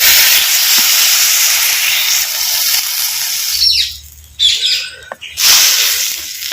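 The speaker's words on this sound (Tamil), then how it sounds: "இப்போ கால் லிட்டர் தண்ணி வந்து இப்போ சேர்த்துக்கிறேன்" Water poured into tomato masala in hot oil for a village-style dry mutton curry, giving a loud steady hiss and sizzle that abruptly drops, then flares in two short bursts as the liquid hits the pan.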